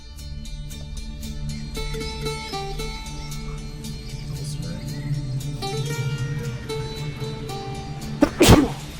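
One loud, abrupt sneeze erupts near the end, close to the listener, over steady background music and crowd noise from a game conference.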